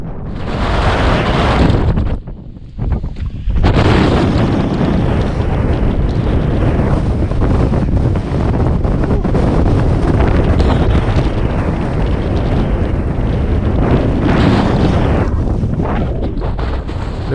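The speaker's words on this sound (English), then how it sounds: "The winds were at their strongest probably at this point, and it must have been gusting at about 40 miles an hour." Strong gusting wind, around 40 miles an hour, on an exposed Scottish mountain roars and buffets against the microphone, loud and sustained throughout with one brief lull early on.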